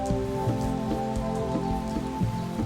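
A heavy tropical downpour pounds steadily on surfaces where chimpanzees shelter, a dense continuous roar of rain with a low ringing drone beneath it, loud and unbroken, with no voices.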